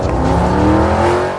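A red race car in a Lego GTA game accelerates hard, its engine revving in a steady, rising tone that stays loud and close for the whole moment, with no voices.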